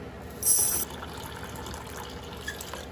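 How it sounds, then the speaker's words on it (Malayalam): Water poured over a glass of urad dal to wash it, a brief close splash of filling water lasting under a second, followed by quieter swirling and rattling of the lentils in the vessel. "കഴുകിയിട്ട് ഇനി ഇത് നമുക്ക് നിറച്ച് വെള്ളം ഒഴിച്ച്"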